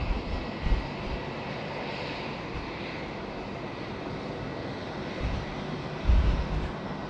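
Qantas flight 041, an airliner departing Sydney Airport, gives off a distant, low jet rumble that holds steady and faint under a soft background wash, with a couple of brief, slightly louder swells.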